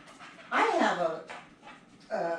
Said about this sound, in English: a American Pit Bull, full-blooded American Pit Bull puppy